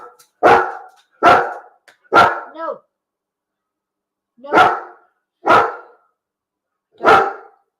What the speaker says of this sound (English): don't know why she's barking